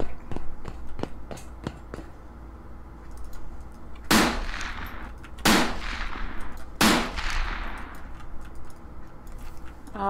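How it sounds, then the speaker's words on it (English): Gunfire in the multiplayer shooter Borderlands 2, starting with a rapid string of sharp close shots, then three loud, booming blasts spaced about a second apart, each trailing off with a long decaying echo. "Shooting at some guys down below."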